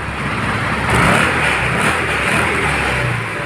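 An MXI 125 motorcycle engine runs steadily and loud, with a broad rough drone that swells slightly near the one-second mark and holds an even idle-like note throughout, with no talk.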